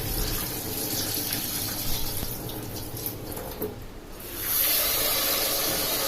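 Running water splashes steadily from a tap into a vessel while rinsing rice, with soft sloshing and a brief dip before the flow swells again, louder and hissier.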